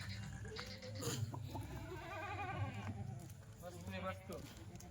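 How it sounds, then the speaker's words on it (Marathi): Kathiawadi goats bleat repeatedly, wavering cries mixed with farmyard noise and people talking over them nearby. "जवानीच्या शेळ्या आहे बघा"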